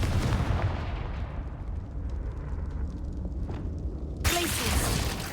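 The Confringo fire spell blasts in Hogwarts Legacy as a loud, broad booming burst of fiery explosion with rumbling low end, followed by a sharp bright crackle near the end.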